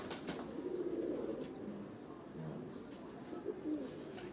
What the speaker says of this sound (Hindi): तो ये वो कबूतर हैं।